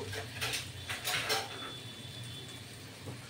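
Rice, sugar and salt stirred in a pot of water for peas pulao, with a few scraping, clattering strokes of a spoon against metal early on, then a quieter stretch, moderately faint, no talking.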